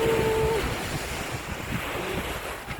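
Sea waves roll in at Jomtien beach under a steady wind, a continuous wash of surf mixed with wind buffeting the microphone, with a faint brief tone near the start.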